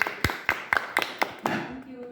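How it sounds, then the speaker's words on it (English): Applause at a Toastmasters meeting: a handful of sharp, evenly spaced claps, six or seven distinct hits, close and fairly loud, thinning out and fading into quiet room tone at the end. "applause."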